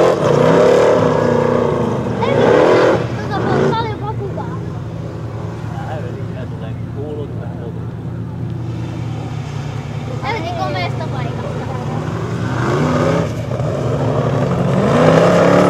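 Formula Offroad racing car engine on a 2011 Pälkäne-Kangasala sandy hillclimb stage, revving in several loud bursts with rises and falls, mixed with crowd noise and voices talking nearby.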